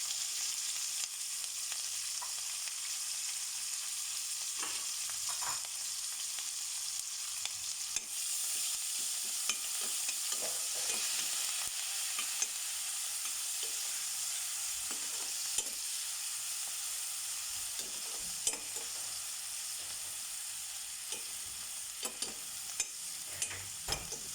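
Steady crackling sizzle of onions, garlic, ginger, curry leaf and spices frying in a hot pan, continuous and close, with occasional soft clinks and stirring scrapes; no talking.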